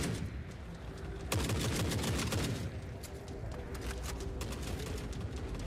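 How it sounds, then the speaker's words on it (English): Rapid bursts of AA-12 automatic shotgun fire in the video game Forever Winter crack out in a dense, repeating fusillade, loud and close, with one heavier blast standing out among the string of shots. "he had a nice shotgun, it sounds like. I'm guessing an AA-12"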